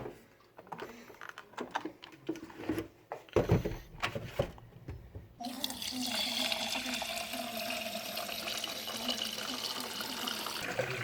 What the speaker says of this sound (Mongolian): Усаа дүүргэцгээе.